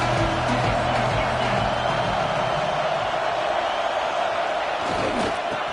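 A college football stadium crowd roars steadily and loudly in a continuous wash of cheering and noise ahead of a third-down play.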